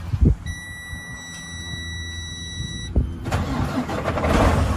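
A starter whines with a high electronic tone, then the large diesel engine of a 2016 Freightliner Coronado 122 SD semi truck cranks and rumbles to life, settling into a rough, building idle.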